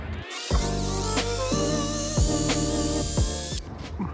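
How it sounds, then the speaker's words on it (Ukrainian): A steady high whine from a drill slowly boring a 3.2 mm hole, running continuously with a few rhythmic clicks and shifts in pitch, close up. "Свердлю, до речі, повільно, щоб не зісковзнуло свердло."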